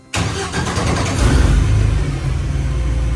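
A Willys Jeep CJ-2A engine fires up in a shop and settles into a steady, smooth running idle, loud and close, with a low rumbling drone throughout.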